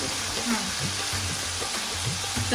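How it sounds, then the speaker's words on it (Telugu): Food fries in a hot pan with a loud, steady sizzle, stirred occasionally, while a voice talks over it. "ఫ్రై"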